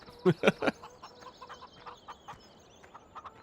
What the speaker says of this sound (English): But in this game, it was pretty much just, you have chickens.